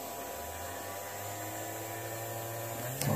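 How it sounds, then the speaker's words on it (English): A brewery control-system motor gives a steady low electric hum, constant and even throughout with no voices, ending in a brief louder rise at the very end. "Start the motor."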